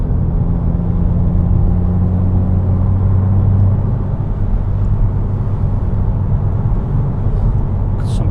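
A car passes on the road beside a 2016 Subaru WRX, a steady low engine rumble and tyre whir that swells slightly and fades, heard from inside the moving car.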